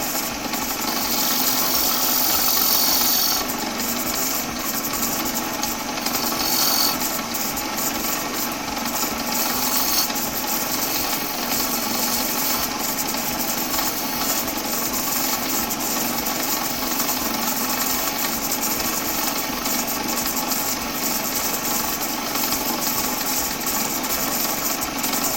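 A wood lathe runs steadily as a gouge turns and shapes a spinning wooden piece, giving a continuous mechanical hum with a rough scraping hiss that stays loud and close throughout, with no talking.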